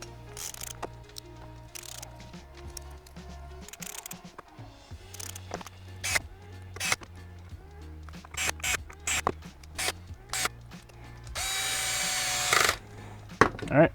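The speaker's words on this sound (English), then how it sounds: "tighten them all down with a screwdriver or an electric driver" An electric driver tightens a dozen screws while a Pro Brushless robot lifter kit is assembled, giving short whirring bursts with pauses and small handling clatter between them. A longer, louder run of driving comes near the end.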